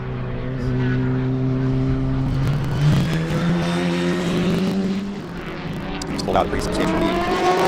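Race cars in an SCCA event passing the start-finish line at Sebring, their engine tones rising and falling as they go by, heard under a commentator's voice.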